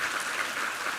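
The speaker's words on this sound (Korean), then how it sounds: "우리 하나님께 감사와 영광의 박수 올려드리겠습니다" Church congregation applauding during a Sunday service, a dense, steady wash of many hands clapping together, loud and close, briefly filling the space without speech.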